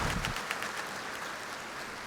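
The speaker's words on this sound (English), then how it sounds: "Give the faculty a round of applause." A graduation ceremony audience applauds the faculty, a dense wash of clapping that is fairly faint and steady throughout.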